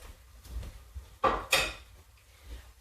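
Tofu is scraped out and dumped into a pan of mushrooms, making two sharp scraping knocks close together near the middle, with a few faint taps around them and otherwise quiet.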